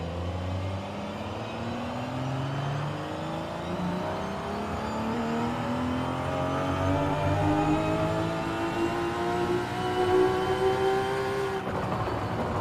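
A car engine pulling steadily in fourth gear in the racing game Forza Horizon 5, its droning note rising gradually in pitch as it accelerates, loud and continuous with no talking.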